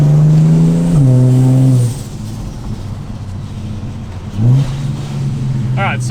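A Ford Barra-engined car accelerates during a brake bed-in run, its engine note rising through a gear change, easing off, then climbing again, loud and close beneath someone talking.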